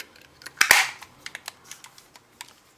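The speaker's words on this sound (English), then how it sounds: "you might be able to hear the pin pierce the cartridge" A pin punctures the gas cartridge of an air pistol: one sharp, loud pop with a brief hiss right after it. Several lighter mechanical clicks and taps follow, close by, with no voices.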